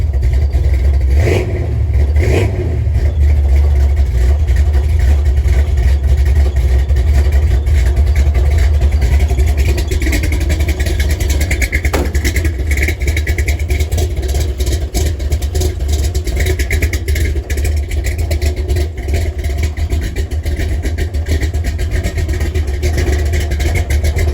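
A 1967 Chevrolet Camaro engine running at idle while cold, a loud, steady low rumble throughout with slight fluctuations and no talking.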